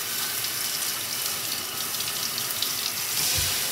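Tap water runs steadily into a bathtub to bathe a dog, a continuous close gushing stream throughout with no one speaking.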